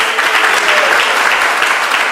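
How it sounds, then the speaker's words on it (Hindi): Audience clapping steadily at a Jagannath katha religious discourse gathering, a dense continuous patter of many hands that holds at even loudness throughout, close and full, with no voice over it. "तुम लोग ताली बजा रहे हो"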